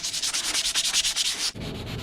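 Steady back-and-forth rubbing of 220 grit sandpaper over an old steel hatchet head, close and even in quick rhythmic strokes, then a brief shift to a rougher, lower scrape.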